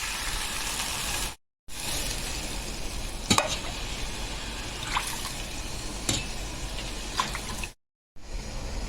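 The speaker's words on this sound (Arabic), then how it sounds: "هنزل بقى بالشوربه بتاعتي" Broth hits a hot pan of fried garlic and bursts into a loud, steady sizzle and bubbling hiss, close up, with a few sharp clinks and stirring knocks cutting through; no one speaks.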